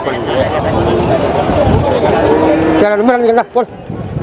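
Kangeyam cattle at a busy outdoor cattle market moo loudly and close by, one drawn-out call rising near the end, over steady crowd chatter and nearby talking.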